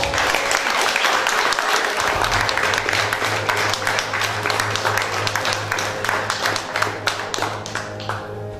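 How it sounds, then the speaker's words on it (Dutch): Applause breaks out for alderman Christophe Peers at a tribute ceremony, a dense, steady clapping crowd filling the room from start to finish, with a low steady hum entering partway through. "Niemand minder mag een applaus gevraagd voor onze schepen Christophe Peers."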